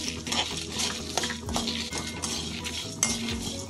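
Dry red chillies stirred in a metal pan while roasting for curry leaves powder, with continuous scraping of a spoon against the pan and small clinks close by, no talk.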